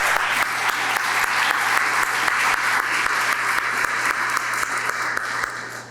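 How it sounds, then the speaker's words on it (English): Sustained applause from an audience at a medical college faculty recognition ceremony in Chicago, steady dense clapping filling the room for several seconds before starting to fade at the end. "let's give them a round of applause"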